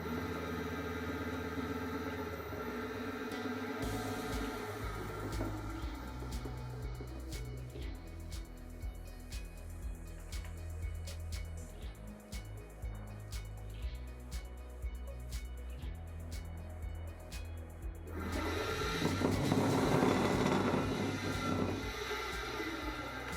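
A brushless DC motor driven by a Flipsky FOC MiniV6.8 Plus controller on a 36-volt battery spins at high RPM under flux weakening. It gives a steady, close harmonic whine over a low hum, then a louder rushing surge near the end.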